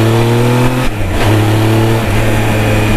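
Triumph Trophy 1215 SE motorcycle accelerating, a steady loud engine drone whose pitch climbs, dips briefly at a gear change, then builds again close to the rider.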